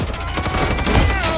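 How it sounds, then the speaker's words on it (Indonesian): A bandit firing repeatedly at a sheriff's car, a loud dense burst of rapid gunshots blurring into a continuous crackling barrage. "Kemudian satu orang bandit segera menyerang si sheriff dan menembak mobilnya berkali-kali, namun si Mike Tyson yang cerdik"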